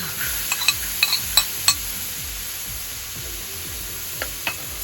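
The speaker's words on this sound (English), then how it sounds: "we're going to start seasoning it with some garlic. Some onion." Garlic and onion sizzle in seasoned lard on an outdoor discada, a dense, continuous hiss broken by several sharp metallic scrapes and clinks of stirring in the first half.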